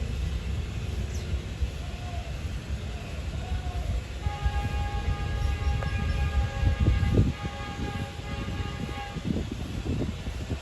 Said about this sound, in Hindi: 28 डाउन शालीमार एक्सप्रेस आ चुकी है ZCU 30 63 के साथ भाभी जी रेलवे स्टेशन पहुंच रही है